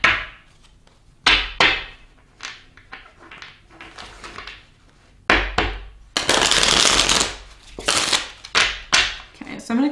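Tarot cards are shuffled and handled in bursts of quick riffling and rustling, with sharp slaps and taps between them, close and fairly loud.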